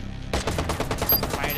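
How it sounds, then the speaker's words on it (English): Sustained assault rifle fire in Watch Dogs, a loud rapid automatic burst of closely spaced shots running without a break after a short quiet lead-in. "using the assault rifle, we've still got lots of ammo"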